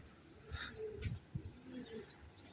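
Pigeons in a neighbourhood setting, soft repeated cooing and a few light chirps close by, with faint background noise and no talk.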